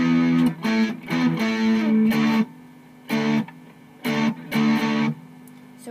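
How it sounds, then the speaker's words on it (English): Electric guitar with distortion plays the last chorus of a song in power chords, loud choppy strummed bursts split by brief pauses, with nothing else playing and no voices. "But the last repetition of the chorus sounds like this."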